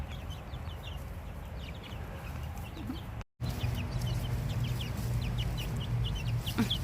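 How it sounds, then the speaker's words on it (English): Free-roaming chickens cluck softly in a garden, scattered short calls from several birds at moderate distance over a quiet outdoor background, with a brief dropout midway. "they are free roaming birds now"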